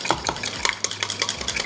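Utensil stirring Lucas Gusanito candy mix, a run of quick, close scraping and clinking strokes against the container at a steady brisk rhythm, with no voices.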